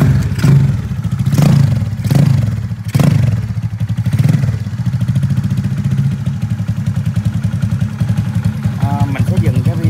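A restored motorcycle pieced together from scrap and donated parts sputters through a few rough starting bursts, then settles into a steady, close, chugging idle, with someone talking over the engine.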